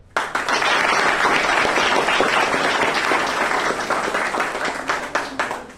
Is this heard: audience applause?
yes